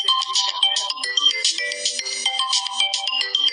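A phone ringtone plays loudly and steadily throughout, a bright repeating electronic melody with no voices over it.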